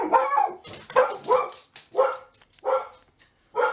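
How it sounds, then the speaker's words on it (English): A dog barks close by in a run of six or seven sharp, yappy barks with short gaps between them. No other sound is heard. "Sorry for the dog."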